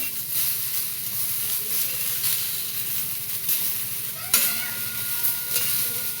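Tomato and green chili kharda roasting in a pan, a bright continuous sizzle with soft scraping strokes as the mixture is turned over and over, and one sharper clack partway through.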